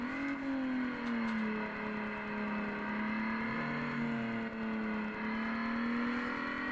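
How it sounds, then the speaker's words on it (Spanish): A car engine from Need for Speed Underground (2003) drones in a steady, sustained tone that slowly dips and rises in pitch, with a brief whirring turbo-like whine partway through and no talking. "estaba el sonido del turbo."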